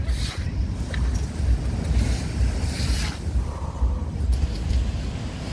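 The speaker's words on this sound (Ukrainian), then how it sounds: "Ай-яй-яй, які хвилі." Rough sea surf crashes and churns continuously after a night storm on the Odesa coast, with gusty wind buffeting the microphone throughout.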